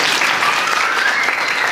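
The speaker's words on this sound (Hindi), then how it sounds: "ये सिर्फ हमने तालियां बजाई ना" An audience at a women's youth training camp breaks into brief, loud, steady clapping from many hands, heard on its own without talk.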